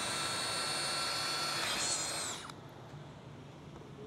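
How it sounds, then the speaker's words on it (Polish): A high-pitched electric drill whines steadily for about two seconds while boring into a coconut, then cuts off abruptly, leaving a quieter background hum. "Mam też specjalnie przygotowaną wiertarkę z jakimś wiertłem."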